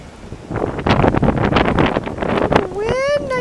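Strong wind gusting during a snow blizzard in Connecticut, a loud, rough buffeting rush against the microphone, with a voice speaking over it.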